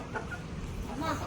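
Hens clucking nearby in a farmyard, a few soft, short clucks, faint.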